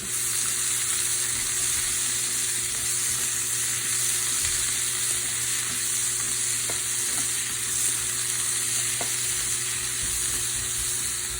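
Snap peas char in a hot pan with a steady, even sizzle that lasts throughout. A few faint clicks are heard, with no talking.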